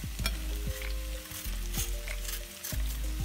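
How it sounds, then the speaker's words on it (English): Jerk tofu frying in a hot pan gives a steady, close sizzle that runs throughout, broken by a few sharp clacks of stirring and no voices. "but as it sizzles down"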